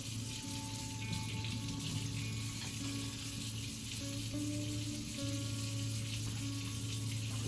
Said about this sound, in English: Wash these two bowls in this knife right quick.